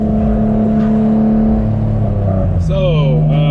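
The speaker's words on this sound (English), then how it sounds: "the car definitely is like deeper and louder" A modified Infiniti G35 coupe engine runs on a test drive, a loud steady deep drone that shifts pitch as the car moves, with a brief higher whine near the end.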